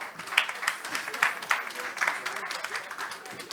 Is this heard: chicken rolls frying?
no